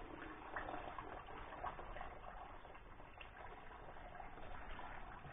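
Coolant water flowing out of the radiator of a Citroën AX with a head gasket fault, a steady soft rushing and trickling stream that continues without a break.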